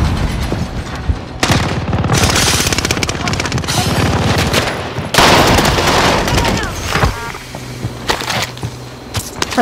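Rapid bursts of gunfire from a battle royale video game, loud and close, with dense automatic volleys and pauses over about ten seconds.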